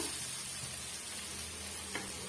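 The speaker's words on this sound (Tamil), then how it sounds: "நம்ம கத்திரிக்காய் சேர்த்து நல்லா ஒரு 2 நிமிஷத்துக்கு நல்லா வதக்கி விட்டுக்கிட்டுங்க" Brinjal sautéing in a pan gives a quiet, steady frying sizzle, with one faint stir-like click near the end.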